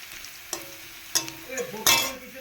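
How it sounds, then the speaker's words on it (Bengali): Potatoes fry in a pan for a Bengali home-cooked greens dish, with a steady sizzle broken by a few sharp clinks as they are stirred, the loudest scrape near the end. "আলুটা একটু লাল লাল করে ভেজে তারপরে মেথি দিয়ে দেবো"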